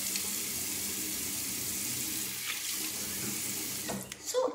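A bathroom sink faucet runs steadily while face cleanser is rinsed off, a close, even water stream with some splashing toward the end.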